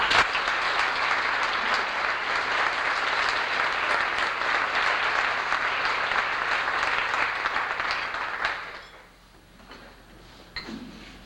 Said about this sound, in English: And I think they deserve a round of applause.